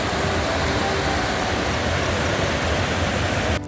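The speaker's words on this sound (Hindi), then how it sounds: "और ये यहाँ पे झरना बह रहा है, कितना सुंदर झरना है।" A mountain waterfall on the Shrikhand Mahadev trek in Himachal Pradesh, India, roars in a loud, steady, broadband rush with no pauses, cutting off abruptly at the end.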